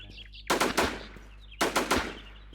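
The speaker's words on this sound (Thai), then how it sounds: "ยิงกูใหญ่เลยดิเว้ย" Machine gun fire in the shooter game Warz Infestation comes in two loud, rapid bursts of automatic shots separated by a short pause.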